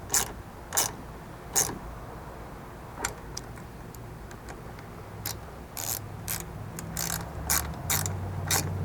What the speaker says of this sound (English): using a 5/32 hex, you can tighten both of these up